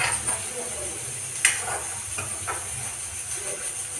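Garlic paste frying with browned onions in a pan for mutter paneer, a steady soft hiss and sizzle throughout with occasional spatters and stirring scrapes.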